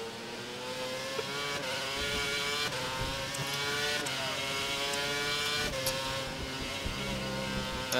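Race car engine from the F1 2011 video game, GP2 round in Germany, revving hard toward full revs on cold tyres: a steady, loud, high-pitched drone with shifting harmonics and occasional gear changes, no talk.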